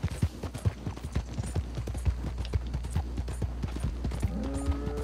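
Horse hooves clip-clop steadily in Red Dead Redemption 2, a quick repeated beat of close, moderately loud steps over a constant low background rumble.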